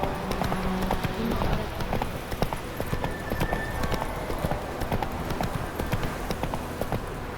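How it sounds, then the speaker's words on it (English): Hooves of a galloping horse in The Witcher 3 video game, a steady fast clip-clop running throughout, close and loud over a dense game soundscape. "Run, Roach."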